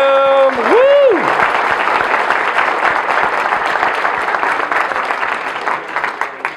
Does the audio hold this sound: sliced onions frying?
no